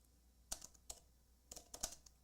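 Quick bursts of computer keyboard typing, close and faint: a few sharp key clicks in two short clusters separated by a brief pause over a quiet background.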